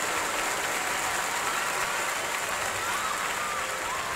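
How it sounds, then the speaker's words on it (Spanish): Steady, unbroken applause from a crowd honouring rescuers, dense and even throughout with no pauses or speech. "un aplauso fuerte para cada uno de ustedes"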